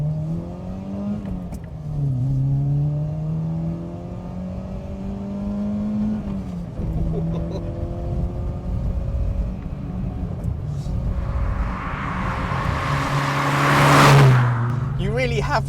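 A 1992 VW Scirocco Mk2 GT2 accelerating hard through the gears from inside the cabin: engine drone rising in pitch, dropping at each of several gear changes, then climbing again, loud and near, with a rushing burst late on.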